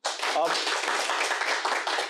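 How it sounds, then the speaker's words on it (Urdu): A studio audience breaks into dense, sustained clapping for a winning quiz contestant, a close, even wash of applause that starts abruptly and holds to the end. "ان کے لیے بھرپور تالیاں۔"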